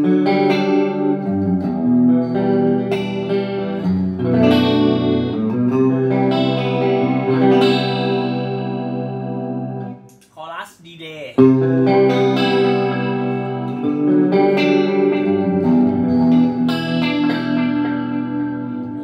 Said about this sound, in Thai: ตัวนี้ก็มีเสียงคอรัดในตัวด้วยนะครับ